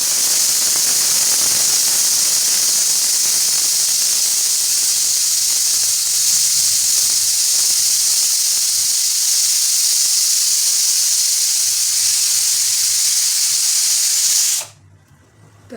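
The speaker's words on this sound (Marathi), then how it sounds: "कुकर गॅसवर चढवला आहे. आपल्याला घ्यायच्या 4 शिट्ट्या." Steady loud hiss of steam escaping a pressure cooker on a gas stove while pav bhaji is cooking, continuous and close for most of the clip before cutting off abruptly near the end.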